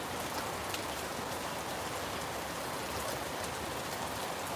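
Steady rain falls in Jamaica, a dense, even hiss of drops on surfaces that holds constant and close throughout, with no talk.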